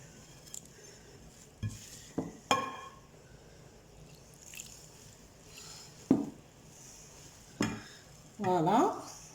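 Moroccan couscous being mixed by hand with oil and lukewarm water, soft rustling and stirring sounds broken by sharp clinks of a utensil against a bowl and a brief rattle near the end, close and quiet.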